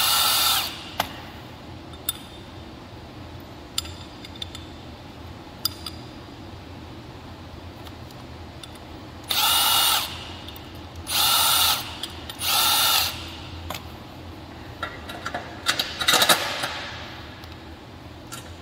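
Power drill driving bolts on a galvanized Metal Valley 5x10 ft trailer kit, several short loud whirring bursts separated by quiet gaps, with a faint steady hum and small metallic clicks between them.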